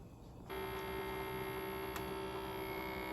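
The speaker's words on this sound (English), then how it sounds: "The smell of coffee and the sound of that machine brewing is like life." A coffee machine brewing in a home kitchen, starting after a short pause with a steady, close mechanical hum and a buzzing drone that holds evenly, with no talking over it.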